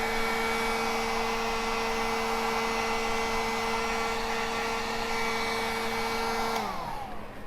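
A heat gun blows a steady, loud whirring stream of air onto drying chalk-style paint on furniture, running continuously before shutting off and winding down near the end.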